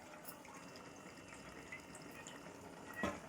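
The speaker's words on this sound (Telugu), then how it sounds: "ఇప్పుడైతే బెండకాయలు కడుగుతున్నాయి కదా" Tap water running steadily and fairly quietly while okra is washed in a home kitchen, with a brief louder splash near the end.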